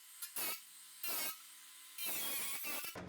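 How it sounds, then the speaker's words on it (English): A tool cuts the flange off a Fittes Luxe exhaust fan cover in three bursts of harsh rasping, two short and one longer, close up with quiet pauses between. "I guess I technically could just cut where the holes are and not have to take the whole flange off"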